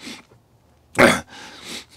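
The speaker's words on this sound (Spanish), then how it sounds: "ya me dio tos" A single sharp, loud cough-like burst in a quiet room, followed by a softer breathy exhale, with faint vocal sounds before it.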